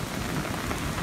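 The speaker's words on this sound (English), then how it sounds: "and now the rain is just coming." Heavy rain pours down steadily during a storm in New Orleans, a loud, continuous hiss of drops on surfaces with no letup and no voices.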